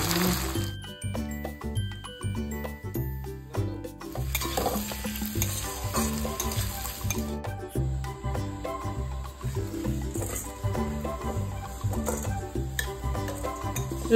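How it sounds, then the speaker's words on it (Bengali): Lentils and potatoes fry together in a hot kadai for muri ghonto, with a constant sizzle and a spoon stirring and scraping in a steady rhythm. "অল্প ধুয়ে এই আলুর সাথে দিয়ে ডালটাকে একসঙ্গে ভেজে নেব"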